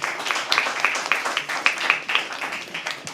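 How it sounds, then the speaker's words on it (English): An open mic poetry audience claps, a steady patter of sharp individual handclaps from a small crowd that rises and falls in little bursts for about three seconds. "Can we please have a round of applause for them for sharing?"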